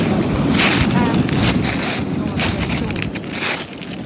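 Strong wind blows outdoors on a chilly day, roaring and buffeting against the microphone throughout, with a voice audible underneath the gusts.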